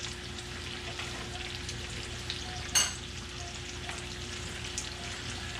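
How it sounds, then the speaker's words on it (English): Bacon fries on a hot plate with a continuous, even crackling sizzle under a steady hum, and one louder pop partway through. "And I'll let y'all watch some bacon fry."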